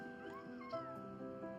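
A talkative pet cat meows repeatedly and loudly up close, with drawn-out, wavering calls running through the whole stretch and no talk over them.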